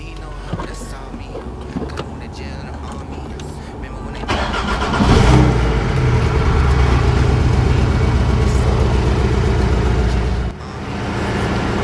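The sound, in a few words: Porsche Cayman/Boxster 718 engine starting and running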